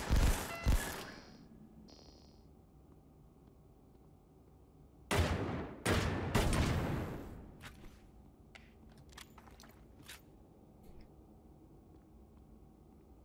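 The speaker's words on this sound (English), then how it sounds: "Might have to shoot this turret." Gunfire at a turret in the video game SCP Fragmented Minds: a sharp opening burst, a heavier volley of shots a few seconds later, then scattered faint clicks and pops.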